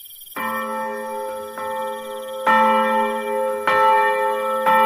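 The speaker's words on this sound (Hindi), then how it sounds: "अचानक भीतर से घंटी बजने की तेज आवाज गूंजी" Loud bell ringing in a Hindi horror cartoon, several resonant church-like strikes spaced about a second apart, each ringing on and overlapping the last, with no voices.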